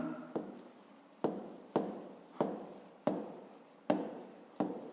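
A pen writes on paper in seven regular scratchy strokes, each starting sharply and trailing off, close and clear in a quiet room.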